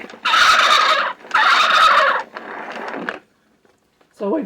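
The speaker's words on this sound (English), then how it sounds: "Here is a turkey." Recorded turkey gobble from a 1989 sound toy: three loud rattling gobble bursts in quick succession, then a brief pause before a voice starts.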